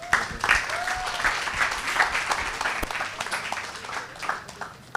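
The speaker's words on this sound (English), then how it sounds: "Please, a round of applause for Salem King." Audience at a Festival of Ideas talk applauds as the next speaker comes up, moderate clapping from a crowd heard somewhat distantly with scattered louder claps, a faint murmur of voices and a brief whistle-like tone.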